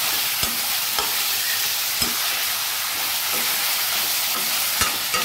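Paneer chilli with green chilli and Schezwan sauces frying over a high gas flame, a loud steady hiss and sizzle punctuated by regular sharp spatula taps against the pan.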